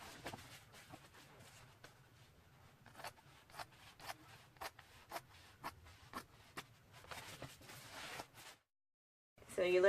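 Scissors cut through fabric for a no-sew toilet seat cover in a steady run of short, crisp snips, close and fairly quiet, ending in a brief pause and then a louder rustle.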